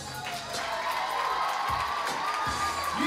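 A lively crowd cheers, whoops and claps in a busy hall, with shouts rising over the din.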